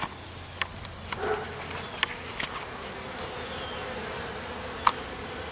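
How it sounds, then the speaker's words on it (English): A steady low buzz of many bees swarming nearby, with occasional faint clicks and taps over the drone. "There's a lot more bees than I thought there'd be there this morning."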